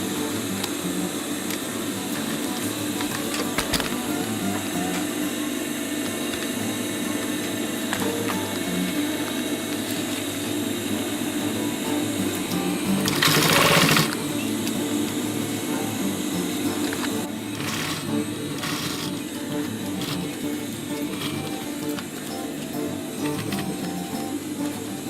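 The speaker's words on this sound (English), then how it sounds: "Align the markings, middle points on both back side and bottom part, and start sewing" A sewing machine stitches together canvas panels of a fanny pack, a steady mechanical whirring and clattering that runs continuously with a brief louder rattle partway through.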